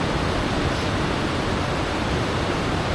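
Ritson Force waterfall in the Lake District on a misty day, a constant close broadband roar of falling water with no breaks.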